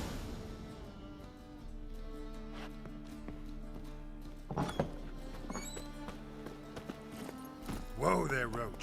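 Roach, the horse in The Witcher 3: Wild Hunt, clops along with soft, quick hoofbeats under game music, with brief voices and a louder burst near the end.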